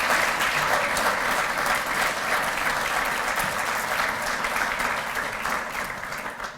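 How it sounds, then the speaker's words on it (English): Sustained audience applause at an awards ceremony, a steady wash of many hands clapping close and loud, easing slightly toward the end with no talking over it. "Robert just deserves a huge round of applause for the work that he"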